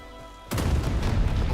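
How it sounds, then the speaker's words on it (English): Explosions in a video game: a sudden heavy boom erupts halfway through, followed by dense, sustained rumbling blasts that fill the rest, loud and close. "I hear explosions."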